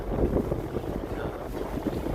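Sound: wind and high waves at sea on a fishing boat

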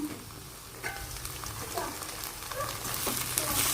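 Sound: egg frying in a pan

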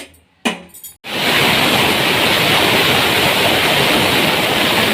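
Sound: pressure cooker whistle

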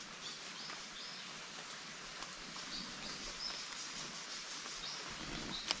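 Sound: light rain falling in the morning

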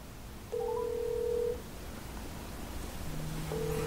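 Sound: LG G7 ThinQ phone ringing for an incoming call

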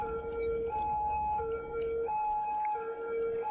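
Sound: ambulance siren in Cities: Skylines video game

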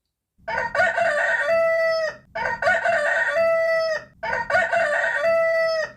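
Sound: rooster crowing

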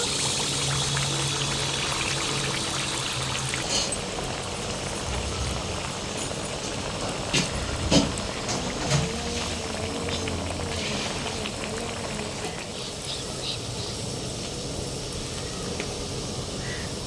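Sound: coconut burelu batter poured into hot oil, frying

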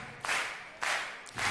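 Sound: audience clapping along

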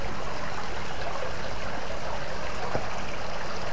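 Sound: trickling water of an artificial stream at a resort

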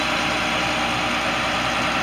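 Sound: Ford F750 truck C7 Cat turbo diesel engine idling

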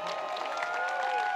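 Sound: audience applause for Sergejs

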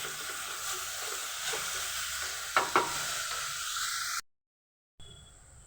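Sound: frying minced chicken with vegetables

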